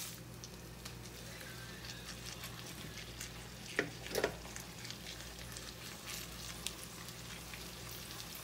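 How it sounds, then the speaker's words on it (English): Ground meat browning in a pan for Filipino-style macaroni spaghetti, a soft steady sizzle and crackle, with a brief splashing flare midway as sauce goes in, then the frying settles back to a quiet hiss. "now we'll add the sauce"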